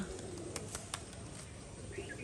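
Giribaz pigeons at a pigeon farm in Rajshahi coo softly against a steady background hiss, with a few brief sharper sounds scattered through.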